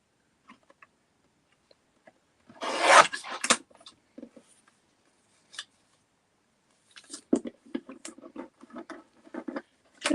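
A guillotine trimmer cuts strips down, making quiet, sparse scraping and snipping sounds in two short clusters with near-silence in between.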